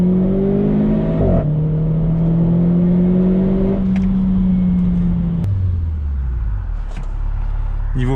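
A Renault Clio 4 RS, the RS18 version, holds its revs loudly on a launch control start and then surges away, the engine note dropping as it shifts, heard close and strong.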